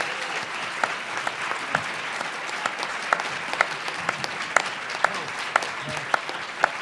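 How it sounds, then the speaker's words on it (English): An audience at a Democratic gubernatorial candidates' women's forum in Illinois applauds the candidates with steady, moderately loud clapping across the hall, with individual sharp claps standing out throughout. "let's give a warm round of applause to all of our candidates"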